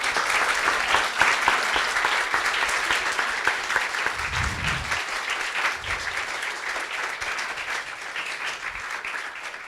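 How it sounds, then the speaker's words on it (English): Steady applause from a sizable audience, a dense continuous patter of many hands clapping that holds throughout and eases off only slightly toward the end. "Another applause, please."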